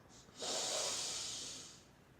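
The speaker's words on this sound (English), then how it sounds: "Taking a proper deep breath." One deep breath drawn in through the nose, filling the gut and then the lungs, a close airy hiss that swells quickly and fades over about a second and a half.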